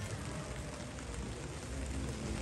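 Steady rain falls in an even, dense hiss that holds at a constant level for the whole stretch, with no voices.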